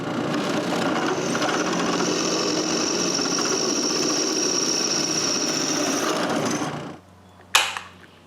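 A drill bores holes in aluminum plate, a steady high whine running for about seven seconds before stopping, then one sharp metallic tap.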